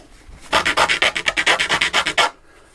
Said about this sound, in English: Just a little bit of sanding and we are ready to put it back on the plane.